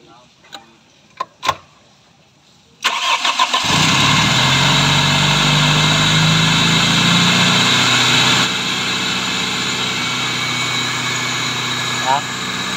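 A cold Toyota GLI car engine cranks and starts after a few faint knocks, then settles into a loud, steady running drone that continues to the end with a slight drop in level midway.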